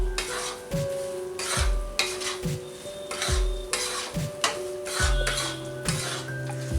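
Chopped fox nuts (makhana) roasting in a hot pan for laddu, stirred in regular rhythmic scraping strokes about once per second over a soft sizzle, close and fairly quiet, no talking.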